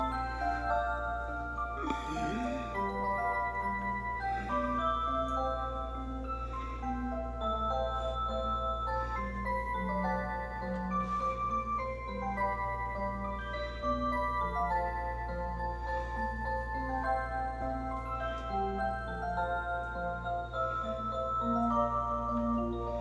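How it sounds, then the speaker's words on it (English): A household clock in an apartment ticking steadily in the background while a melodic chiming tune plays over a constant low hum, with no talking. "This is the clock you hear."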